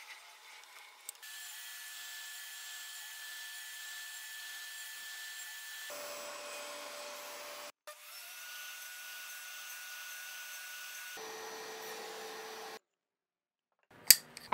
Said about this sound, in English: I'll just move everything to where I'll cut a 1-inch wide dado